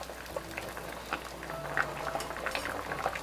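Hairtail fish and radish simmer in a pot over medium heat, with a soft continuous bubbling and small pops, quiet and close, and no voices.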